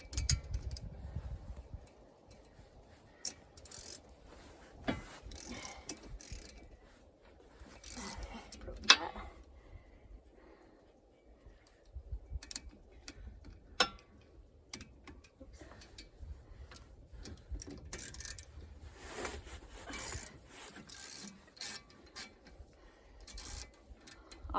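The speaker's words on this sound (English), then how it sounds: "This is my all-time favorite tool. It's a ratchet." A hand ratchet clicks in quick intermittent bursts while brake caliper bolts are removed during a brake and rotor replacement, the light ticking close and fairly faint against a quiet background.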